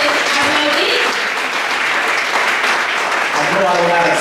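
A church congregation claps, dense and loud applause that fills the room steadily from start to finish.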